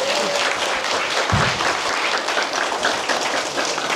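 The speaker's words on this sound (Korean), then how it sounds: "전영희 교수님을 큰 박수로 맞이하겠습니다." Audience applause welcoming a professor onto the stage at a village community lecture event, a dense steady wash of many hands clapping loudly throughout, with a brief low thump partway through.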